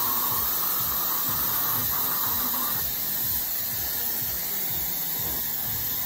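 Gramma Professional IQ blow dryer running at a strong setting, a loud, continuous airy hiss and motor whine held close and steady from start to finish, with no voices.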